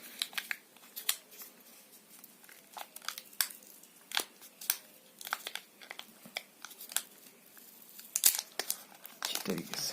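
Stuck plastic packaging around a Realme 5s phone charging cable being pulled and peeled open, giving close, irregular crinkling and sharp crackles scattered throughout, with a voice speaking at moments.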